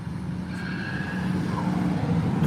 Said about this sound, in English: Here comes that Grand National El Camino thing.